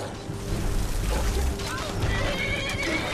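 A horse in the video game Skyrim lets out a loud, close whinny, with clip-clopping hooves and someone talking over the game sounds.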